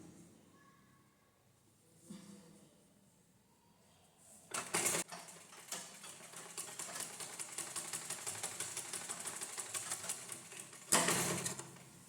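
A sewing machine stitches blouse fabric, starting after a quiet pause with a short burst, then running in a fast, steady mechanical chatter before a final louder burst, close by.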